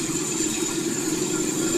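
A World War II era C-47 airplane's radial engine runs at a steady idle after starting, a continuous rumbling drone heard alone at moderate loudness.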